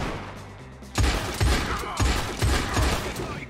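Revolver fire in Red Dead Online: five sharp, booming shots at a quick, fairly even pace, loud and close, following a brief quieter moment.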